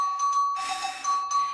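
A workout timer bell rings with a steady sustained tone and bright metallic overtones, starting softly and swelling louder midway through, heard alone without talk.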